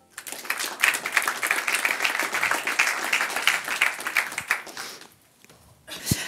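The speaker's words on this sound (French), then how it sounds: "Je vous remercie d'accueillir sous un tonnerre d'applaudissements Izzy Béard." Hearty applause erupts from an HR awards ceremony audience, a dense burst of clapping that swells, then drops away near the end before a brief sound returns.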